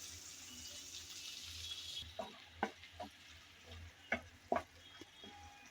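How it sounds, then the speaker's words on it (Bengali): Chopped green chilies being stirred and fried in a pan for spicy vegetable pasta, a soft sizzle at first, then a string of distinct spoon knocks and scrapes against the pan at close range. "মরিচটা দিয়ে আবারও একটু নেড়েচেড়ে মিশিয়ে নিলাম।"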